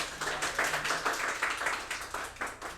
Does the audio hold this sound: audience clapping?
yes